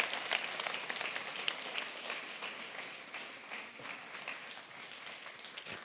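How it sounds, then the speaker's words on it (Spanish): Church congregation applauding, a faint, distant wash of many hands clapping steadily throughout with no voices standing out. "Denle un aplauso al Señor"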